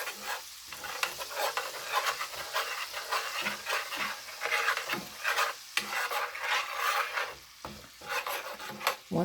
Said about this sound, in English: we're just going to stir this up till our butter melts